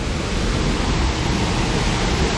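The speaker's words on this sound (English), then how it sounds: "Now we will be going closer to the waterfall." Taman Beji Griya waterfall in Bali, a dense, loud, steady roar of falling water heard close up with no break.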